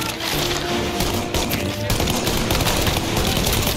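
Sustained machine gun fire in Mafia: Definitive Edition, a loud unbroken rattle of rapid shots emptying a full magazine, close and continuous throughout.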